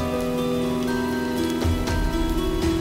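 Heavy rain pours down in a steady, dense hiss of drops hitting surfaces, loud and continuous, with faint sustained musical tones underneath.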